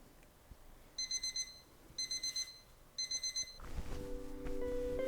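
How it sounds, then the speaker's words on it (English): An alarm clock rings early in the morning in three sharp bursts of rapid beeping, each about half a second long and spaced a second apart, before a low electronic hum takes over. "why did I set this alarm so early?"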